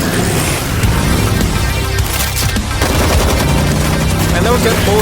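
Dense, continuous gunfire rattles through an animated Ghost Rider versus Spawn battle, loud and unbroken, with overlapping shots and heavy rumbling throughout.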